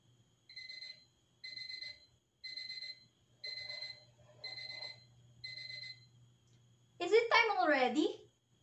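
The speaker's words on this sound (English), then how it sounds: "It is the ringing of the alarm clock." An alarm clock beeps in six evenly spaced bursts of rapid electronic tones, then a voice speaks briefly; a low hum runs throughout.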